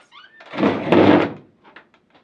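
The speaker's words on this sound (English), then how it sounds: "I'll actually show you what this door looks like when it's closed." A hidden door in a haunted house attraction slides shut with a single close, heavy whoosh and thud, followed by a few faint knocks.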